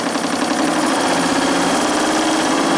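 Live steam engine of a small steam launch running on a first test, giving a loud, steady, close mechanical chugging hum with a fast rhythmic beat.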